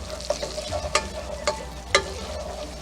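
Chopped celery sizzles steadily in melted butter in a pan over medium to medium-high heat, with a few clinks of a stirring spoon against the pan.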